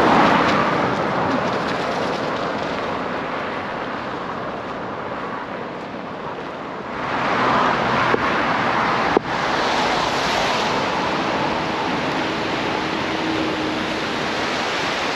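A loud, steady rush of the Cheremosh River flowing in the Ukrainian Carpathians fills the scene, a broad continuous roar with a brief shift in tone partway through.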